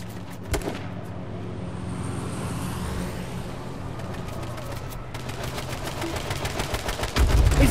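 Rapid bursts of gunfire in H1Z1: King of the Kill crackle over a steady engine drone, with sharp shots scattered throughout and a louder burst near the end.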